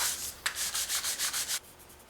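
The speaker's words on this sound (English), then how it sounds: "So now I can go ahead once again with my sanding beam, just to make sure that everything is flat." A sanding beam is rubbed back and forth over guitar neck fretwork in rapid, even strokes, about eight soft rasping passes in a row, close and fairly quiet with no talk.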